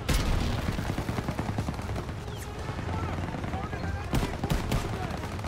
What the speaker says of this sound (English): Gunner, target that MG42 next.